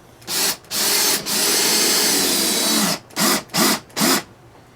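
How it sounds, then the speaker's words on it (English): A power drill drives screws into wooden sill logs of a model log cabin: a few quick triggers, a long sustained whine, then three short separate bursts, all loud and close. "I think I'll just put 3 screws in."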